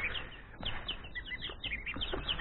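Goslings in a cardboard-lined brooder give a quick series of high, thin peeps and chirps, close and soft, with light scuffling and rustling among them.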